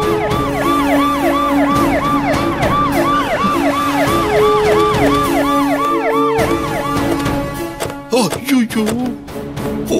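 A police car siren wails, cycling up and down repeatedly, loud and close, with a steady engine hum beneath and brief voices near the end.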